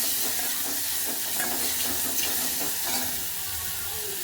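Ground spice paste with turmeric and asafoetida sautéing in a pan, giving a steady close sizzle and hiss with faint scraping stirs throughout, no voices.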